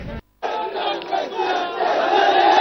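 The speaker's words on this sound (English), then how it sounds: "the commotion that you hear right now is because the protest march, which started from one end of the campus to this end, has just reached here" A protest march crowd on a university campus in Hyderabad fills the air with loud, dense chanting and shouting, a steady roar of many voices that swells slightly after a brief pause at the start.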